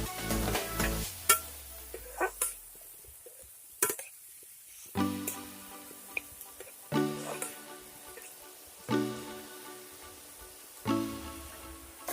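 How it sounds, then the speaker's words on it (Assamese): Fish khar with kola khar being stirred in a pan: intermittent scraping strokes of a spatula against the pan, separated by brief quiet gaps, with a soft background sizzle. "এতিয়া কলাখাৰখিনি তাত বাকি দি পুনৰ ভালদৰে লৰাই দিছোঁ"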